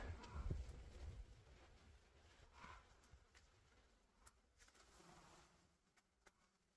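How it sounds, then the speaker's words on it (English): A large honeybee swarm being captured produces a faint, continuous insect buzz. It is louder at first and then thins to a low steady hum with scattered nearby wingbeats. "Oh, that's a lot of bees."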